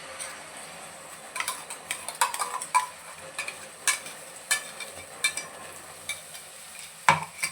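Masala being fried with tomato puree for Delhi-style chole, a soft sizzle under repeated scraping and clinking strokes of a spoon against the pan, irregular and close.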